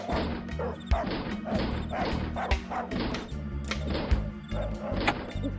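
Dog barking in the Darkestville Castle video game, several sharp barks and yips repeating in quick bursts alongside thuds and clatter, moderately loud and with no talking.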